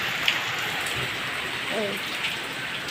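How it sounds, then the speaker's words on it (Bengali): Heavy rain pours outside with a steady, dense hiss of drops on surfaces that continues throughout, and a faint voice is briefly audible underneath. "বাইরে বৃষ্টিটা হচ্ছে প্রচণ্ড হারে বৃষ্টি হচ্ছে"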